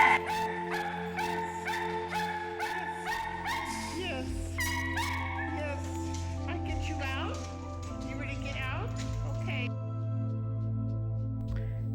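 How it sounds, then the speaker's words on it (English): Dogs bark in a quick run of repeated yaps, then more scattered barks and calls over a steady low hum, with rain-like patter underneath. "Oh, there's another dog."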